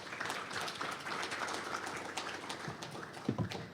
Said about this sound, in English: So let's give Joel a round of applause